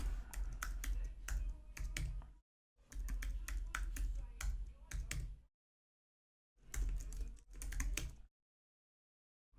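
A computer keyboard is typed on at close range while entering an add user command, with rapid clattering keystrokes in three bursts separated by short silences.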